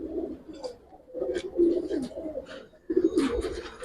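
Close, repeated low cooing of a Gribaz silver coloring pigeon in throaty bursts with short pauses, louder toward the end, with faint chirps above.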